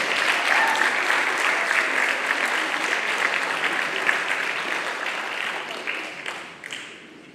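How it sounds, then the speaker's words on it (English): A concert audience claps steadily for a tribute band at the Roads & Rivers concert, held in a church; the applause is dense and loud throughout, then thins and fades over the last second. "Keep clapping, keep clapping."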